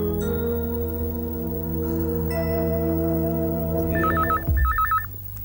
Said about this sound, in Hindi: नरेश साहब, आपका फोन है।